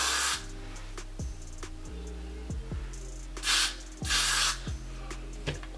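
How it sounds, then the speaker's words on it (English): Several short bursts of hair spray hiss, two louder ones near the middle, over a steady low hum and faint clicks. "I'm just gonna spray with my Got To Be spray"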